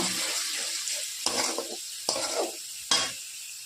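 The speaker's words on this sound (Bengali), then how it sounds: "এখন আমি ভিজে রাখা মশলাটা দিয়ে দিচ্ছি, দিয়ে একটু কষিয়ে নেব" Soaked spice paste frying with tomato in a pan for soybean kosha, a steady close sizzle with three sharp stirring strokes that each bring a louder burst of frying.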